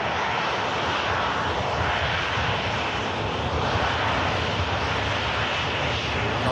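A Ryanair Boeing 737 Max 8 comes in to land at an airport, giving a loud, steady jet engine roar that holds throughout with no speech.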